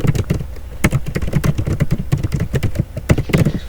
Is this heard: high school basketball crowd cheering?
no